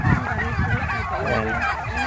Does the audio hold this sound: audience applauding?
no